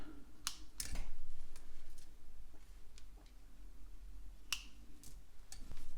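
Scissors trim 1.5 mm leather in a series of crisp, sharp snips scattered irregularly across a quiet room, close and distinct against a faint background hum.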